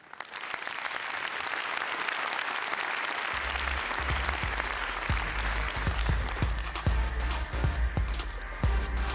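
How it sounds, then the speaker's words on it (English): A crowd at a startup awards ceremony applauds three finalists with dense, sustained clapping that fills the room, joined partway through by a thumping low beat that continues under the applause. "we need some applause for 3 society finalists"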